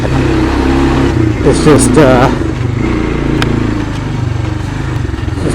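A Honda Fourtrax 300 quad's engine runs loud and close during a test drive, a steady buzzing drone rising and easing as the rider shifts, with someone talking briefly over it.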